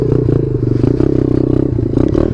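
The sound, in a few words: Chinese pit bike engine revving with new $8 air filter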